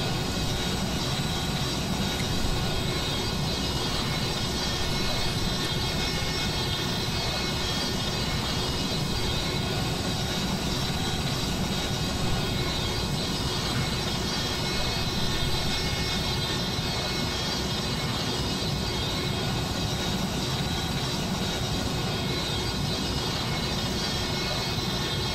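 Steady, loud roar of Airbus A320 engines heard inside the cabin during simulated flight, a constant broadband drone with a faint tonal whine that stays unchanged throughout and has no voices over it.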